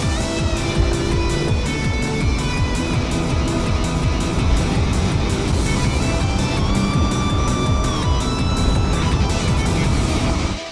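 A Honda Inspire sedan driving along, with a steady engine and road roar filling the whole stretch and staying loud and even, no voices over it.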